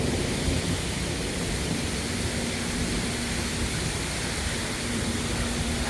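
Heavy rain pours down steadily during a severe thunderstorm on Dauphin Island, Alabama, a dense, constant hiss with a low rumble underneath and no voices.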